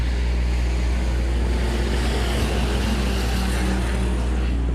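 Hobby Stock race cars roar together at the green flag for a heat race at the Rock County Fair dirt speedway, a steady, dense engine drone filling the air without a break.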